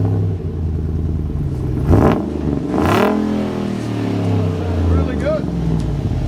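Ford Raptor SVT 6.2L engine with a Flowmaster Super 10 exhaust, idling with a deep rumble, then revving in two quick throttle blips before settling back, close and loud.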